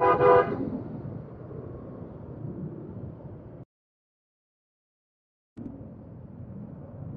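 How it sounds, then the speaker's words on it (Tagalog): Rush-hour traffic on a road narrowing to a single lane near NLEX, with a short car horn toot at the start followed by a steady rumble of engines, broken by a brief gap of silence before the traffic noise returns. "Ganyan yung traffic ko."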